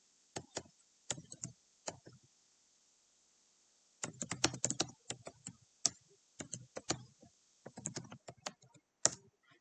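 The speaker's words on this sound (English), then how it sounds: "here I am typing something" Quick bursts of keystrokes on a computer keyboard at a Linux terminal, close and crisp clicking in irregular clusters separated by short pauses, no voices.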